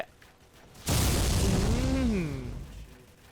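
A sudden loud explosion in a video game with an automatic gun turret bursts out, followed by a rumbling, slowly fading roar.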